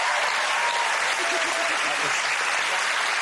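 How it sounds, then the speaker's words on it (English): A studio audience at a comedy quiz show applauds steadily, a dense, even wash of clapping that runs throughout with faint voices mixed in. "Round of applause."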